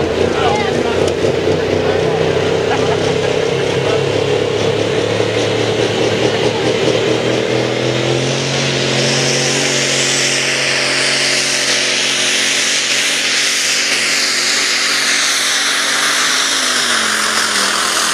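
Super stock diesel pulling truck at a truck pulling championship, its engine roaring loudly with a harsh, rising, turbo-laden drone that shifts and climbs in pitch as the run continues, while an announcer talks over it.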